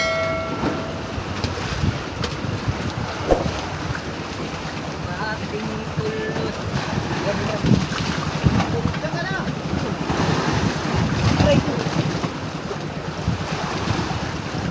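Strong wind buffets the microphone while waves wash and slap around a heavily loaded boat at sea, a continuous rough roar of water and gusts with faint voices and engine rumble underneath.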